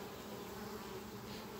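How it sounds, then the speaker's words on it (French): A dense swarm of honeybees hums around an overflowing hive, a steady, close, unbroken buzz with no other sound over it. "Ça fait vraiment un tas d'abeilles là."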